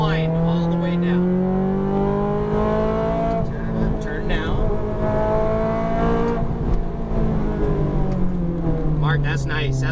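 Ferrari F430 engine revving hard on a racetrack, a loud, steady harmonic whine that rises and dips as the throttle is worked, with an instructor's voice speaking over it throughout.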